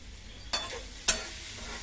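Sujoni shak greens, freshly picked from the field, fry in a pan. Two quick scraping stirs stand out clearly over a soft, steady sizzle.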